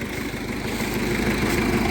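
Tractor engine discing a corn field to prepare it for ploughing, a steady mid-pitched chugging drone that stays loud and close throughout with no voices.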